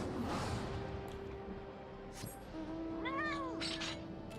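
A cat meows a couple of times, close and fairly clear, over a steady low room hum with faint background noise.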